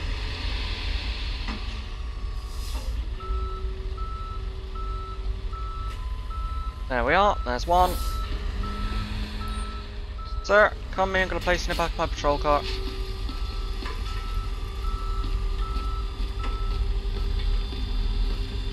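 A tow truck reverses with steady, repeated beeps in a Police Simulator: Patrol Officers patrol scene on a Minnesota State Patrol shift, the tones sitting under a constant engine hum while an officer talks over them.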